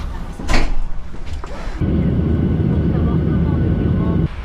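An airplane on a flight to Edmonton gives a loud, steady roar that deepens and fills in partway through, with a brief burst of sound near the start.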